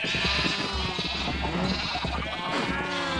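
Sheep in the video game Minecraft bleat in a few wavering cries over dense, steady game background sound.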